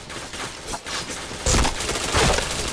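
Gunfire in a shooting video game: dense, sustained bursts of automatic shots that grow louder and heavier after the first second and a half, with no speech over them.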